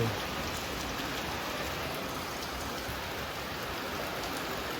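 Heavy rain falls continuously, its broad, even hiss of drops hitting the ground holding steady throughout.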